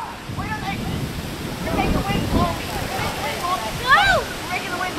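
Storm-force wind roars around a wheelchair windsurfer, a broad rushing bluster that swells and dips in gusts, while people shout and call out nearby over the noise.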